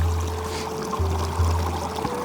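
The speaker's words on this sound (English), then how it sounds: "this sacred water is flowing" Sacred water flowing and pouring in a steady, close rush, with a low hum and a few soft bumps underneath, continuous throughout with no voices.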